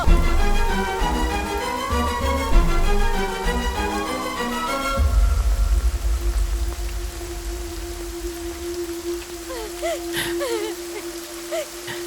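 Stormy night rain in a Hindi-dubbed romantic drama film scene: steady rain noise with a low hum takes over after a few seconds of music and continues alone, with faint chirps near the end.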